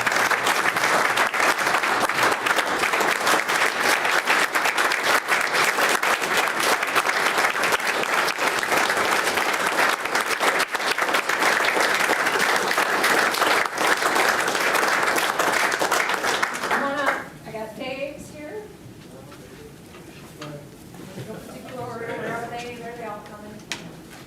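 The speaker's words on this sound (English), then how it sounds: "Let's give them a round of applause." Loud, dense audience applause fills a Yankton city commission meeting room for about seventeen seconds, then cuts off as voices begin talking nearby.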